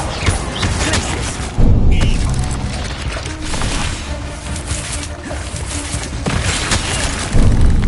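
Glacius freezing spell cast in the Hogwarts Legacy video game on PS5, heavy thuds and booming bursts amid a dense barrage of combat effects, with a loud hit near the start and another at the end.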